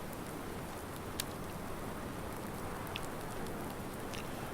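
Rain falling steadily in a farming roleplay video game, a soft even hiss of drops with a few faint louder taps, quiet and constant with no other sounds.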